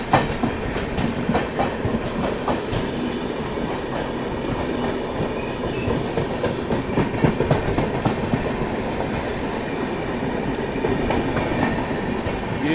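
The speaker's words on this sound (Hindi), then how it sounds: "ट्रैक साउंड एंजॉय करो आप।" West Bengal Sampark Kranti Express wheels clattering steadily over rail joints at Ghaziabad Junction, a loud, continuous rolling rumble with rhythmic clicks and faint squeals throughout, no voices.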